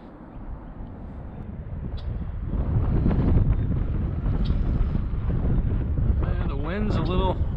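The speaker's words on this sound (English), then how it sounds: "There's a good breeze today." Wind gusting outdoors at a local pond on a breezy day, a steady broadband rush that builds and stays loud, buffeting the microphone, with a brief whistling tone near the end.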